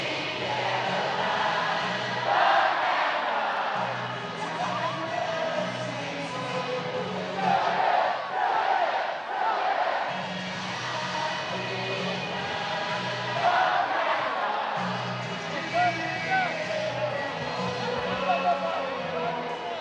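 A full-capacity Boston ballpark crowd at a Savannah Bananas exhibition baseball game sings along to a song, a loud, sustained massed chorus with swelling cheers and music underneath, filling the whole stretch.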